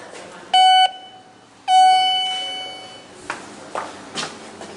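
An elevator call chime in a Hampton by Hilton hotel with Dover SPF traction elevators and an EPCO CircleLine fixture gives two clear electronic bell tones, a short one and a longer decaying one, followed by faint clunks and taps.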